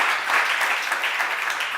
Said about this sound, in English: Please give them a round of applause for ending our day in such a positive note.